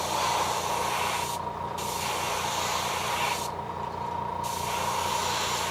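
A spray gun steadily hisses as it blows glaze onto a blank fishing lure for a custom dark-water dragonfly finish, a continuous close airy spray with two brief pauses in the high hiss.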